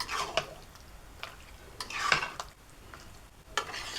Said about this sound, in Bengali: এই সময় অনবরত একটু করে নেড়ে দিতে হবে, যেহেতু মিষ্টি দেওয়া হয়েছে, এখন অল্পতে তলায় লেগে যাবে।